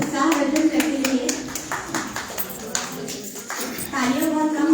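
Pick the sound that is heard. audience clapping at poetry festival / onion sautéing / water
audience clapping at poetry festival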